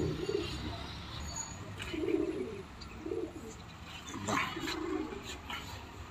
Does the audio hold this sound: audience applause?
no